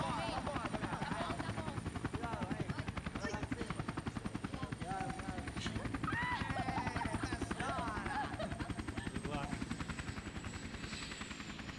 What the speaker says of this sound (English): that guy can operate a helicopter as well.